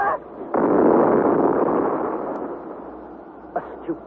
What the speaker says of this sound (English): and then suddenly the ball of fire bursts